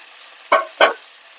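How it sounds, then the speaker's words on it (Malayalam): Chopped onion stirred in a frying pan for drumstick sambar gives two quick, sizzling scrapes about a third of a second apart, with quiet background in between. "കട്ട് ചെയ്ത് വെച്ച ഉള്ളി ഇനി ഒന്ന് വറുത്തെടുക്കാം"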